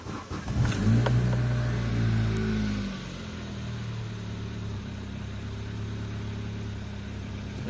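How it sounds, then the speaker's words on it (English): An Opel/Vauxhall Astra or Zafira petrol engine cranks and catches, rising briefly with a loud rev in the first few seconds, then settles into a steady, even idle close by, with no talking. "so let's start the car and see."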